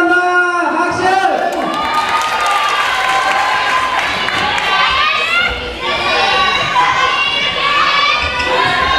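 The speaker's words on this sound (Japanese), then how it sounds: "スタイルランド拍手" A crowd claps and cheers at a hip-hop dance show, loud and close, with excited shouts and whoops rising over the steady clapping and voices chattering underneath.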